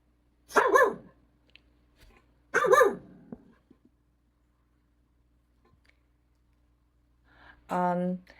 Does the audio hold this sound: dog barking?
yes